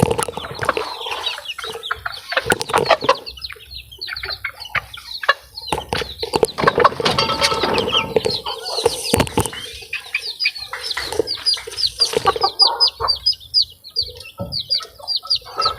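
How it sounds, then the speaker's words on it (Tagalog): White chicks peep in a dense, continuous chorus, with lower clucking and a few wing flaps mixed in, loud and close, no talking. "puting sisiw"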